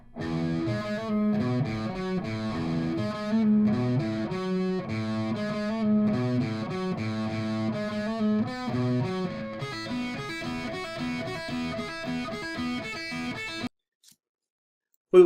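Distorted Wiseman electric guitar riffing with crunchy, driven chords and fast picked notes, loud and steady for over thirteen seconds before cutting off abruptly into near silence.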